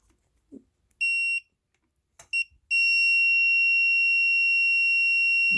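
An Innova test meter's continuity beeper sounds: two short high-pitched beeps, then a sustained tone that continues to the end, with faint handling noises in between.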